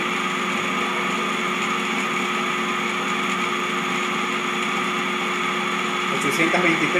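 A DC motor under AC-DC converter speed control, running at about 822 RPM in a lab setup, gives a steady whining hum with stable tonal layers. The drone holds even throughout, with a small rise in noise near the end.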